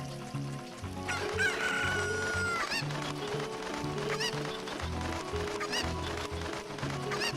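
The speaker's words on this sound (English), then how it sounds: "Come here, chicken." A chicken in a video game crows and clucks over steady, rhythmic game music, with the bird's calls standing out against a busy background.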